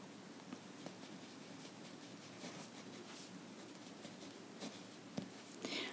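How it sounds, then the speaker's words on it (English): A pen scratches across paper while a geometry proof about congruent triangles is written out by hand, a soft continuous rasp with small irregular strokes and taps, close and quiet. "Let me write this."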